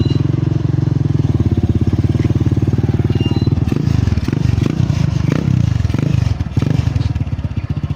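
A motorcycle idling and revving close by, a loud steady low engine throb with rhythmic pulsing throughout, with scraping and clattering sounds in the middle and brief voices in the background.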